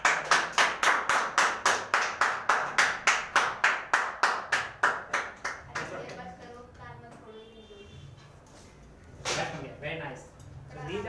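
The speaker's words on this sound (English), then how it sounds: "Please have a great clap." A class claps for prize winners at a school competition in a strong, even rhythm of about twenty loud claps. The clapping then fades into the background under voices talking.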